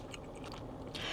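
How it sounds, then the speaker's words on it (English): Biting into crunchy, crispy fried chicken skin with a thin batter, heard close up as steady dense crackling and chewing crunches. "it's just the natural crispiness of the skin, the chicken skin, that makes that crunch"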